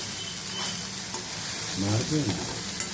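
Okra pieces shallow-fry in oil in a pan, giving a continuous sizzling hiss with a soft stirring scrape and brief clatter of the utensil, fairly faint and free of speech.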